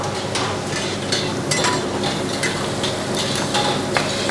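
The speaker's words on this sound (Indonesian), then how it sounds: "ini kita bakal goreng bahan-bahan yang pertama, bawang putih, bawang merah, cabai merah keriting" Garlic, shallots, curly red chilies and bird's eye chilies frying in hot oil, a steady close sizzle with scattered sharp crackles and occasional stirring.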